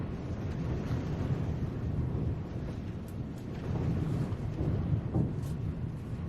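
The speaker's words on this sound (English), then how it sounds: "I wonder if y'all can hear the wind, bro." Steady outdoor wind roars and buffets the microphone in a continuous low rumble, with no voices and no breaks.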